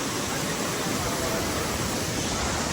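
Waterfall at Lava, Nepal, a steady loud broadband rush of falling water filling the whole moment without pause, close and unbroken, with no voices over it.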